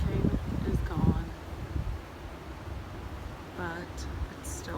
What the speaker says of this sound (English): but it's still windy.